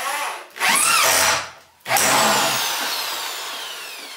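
Power drill driving a fastener into a concrete wall for a pantry shelving rack, a loud close whine that briefly cuts out, then starts again and runs steadily, pitch sliding as the bit backs out and drives in.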